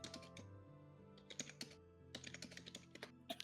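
Fingers tap rapidly on a computer keyboard in quiet, irregular bursts of crisp clicks close to the mic, pausing briefly between runs of keystrokes.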